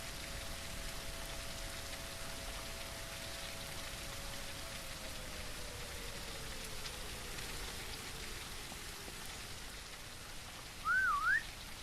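A whistle in the survival game Surroundead gives a long steady tone that slowly bends lower over several seconds, then a short rising warble near the end, all faint against a constant rain-like hiss.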